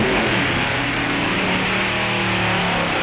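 Drag racing cars, an Allison engine against a twin Chevy, producing a loud, continuous, dense engine roar that stays constant throughout without talking.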